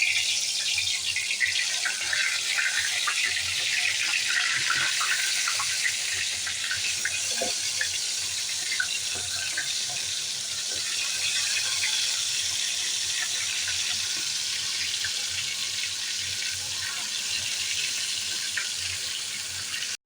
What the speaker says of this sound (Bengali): আমার তেলটা গরম হয়ে গেছে আমি মাংসগুলো ভেজে নেবো